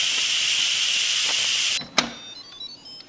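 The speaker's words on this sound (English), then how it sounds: "Time to release that steam." Steam released from an Instant Pot pressure cooker, a loud steady hiss that cuts off abruptly, followed by a click and faint rattles.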